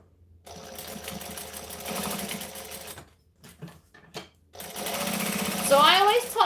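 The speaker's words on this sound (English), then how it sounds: "Time for top stitching." An electric sewing machine top stitches fabric in two fast, steady runs of rapid needle chatter, close and loud, separated by a brief pause with a few clicks, with talking over it.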